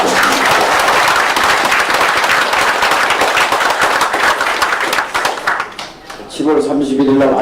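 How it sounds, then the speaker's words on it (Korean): A crowd at a Korean opposition party political gathering gives a big round of applause for a group of mothers, loud dense clapping throughout that thins briefly before a voice resumes at the end. "우리 어머니들께 박수를 한번 크게 보내주시면 좋겠습니다."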